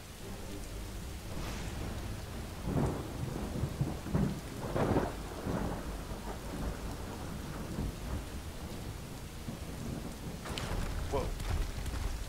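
Steady rain falls in the Skyrim video game while deep thunder rumbles roll in several times, loud and close against the constant patter.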